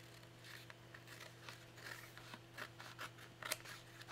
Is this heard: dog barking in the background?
no